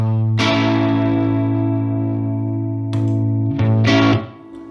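An electric guitar plays through a Dunlop Fuzz Face Mini germanium fuzz pedal: a thick, sustained distorted chord rings out, then a few more fuzzy strums and a swell before cutting off, loud and close.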